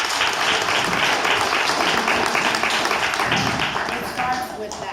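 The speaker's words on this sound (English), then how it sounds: "I just want to give another round of applause." A keynote audience at a spring dance showcase breaks into dense, steady applause that fills the room, with an announcer's voice carrying over the clapping throughout.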